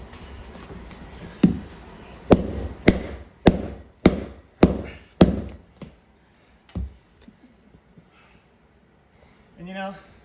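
A hammer knocks floating floor planks into place: about eight sharp, evenly spaced wooden knocks, loud and close, then a few softer taps, with brief voices near the end.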